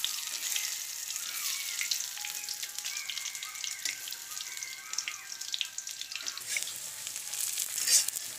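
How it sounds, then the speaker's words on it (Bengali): Constant hiss and crackle of soya chunks frying in oil, with light scraping as they are turned over, fairly close and without speech. "উল্টে পাল্টে ভালোভাবে ভেজে নেব।"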